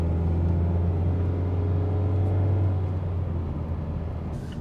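A 2021 Mazda Miata's engine holds a steady, close low rumble that swells slightly mid-way, then eases off, with no voices over it.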